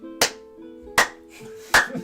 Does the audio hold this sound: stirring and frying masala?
no